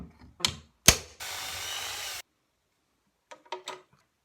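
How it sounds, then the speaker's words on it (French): A drill boring a small pilot hole, with a sharp click, then a short burst of steady whirring of about a second, followed by silence and a few light knocks. "je vais percer un premier petit trou pour pouvoir contrôler"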